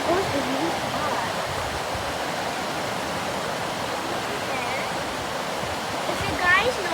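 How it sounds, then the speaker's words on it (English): Rushing water floods a sewer so it runs like a river, a steady, loud broadband roar of churning flow that continues without a break throughout. "I do not know what just happened to the sewer until it became a river."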